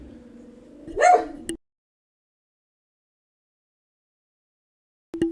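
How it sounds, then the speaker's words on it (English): Dogs barking: a sharp close yelp-like bark near the start, then a long stretch of silence before another short bark cuts in at the very end. "Sorry about the dogs."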